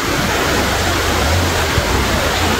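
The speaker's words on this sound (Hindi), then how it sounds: "आवाज आ रहा है पानी का, कितना मस्त लग रहा है। ये रहा टाइगर फॉल" Water rushes steadily at Tiger Fall waterfall near Chakrata, Uttarakhand, a loud, close, continuous broadband roar with no break across the moment.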